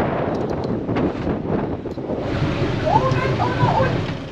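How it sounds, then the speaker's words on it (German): Steady, heavy wind roars and buffets throughout on a boat trip near Amsterdam, with faint voices underneath and a brief whistling tone near the end. "Oh, ist ganz schön windig."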